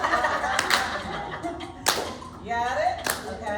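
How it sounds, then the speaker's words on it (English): Hands clap in a few sharp, separate smacks spaced about a second apart during a clapping exercise, with a voice talking and vocalising between and around the claps. "Clap, clap, clap, and clap."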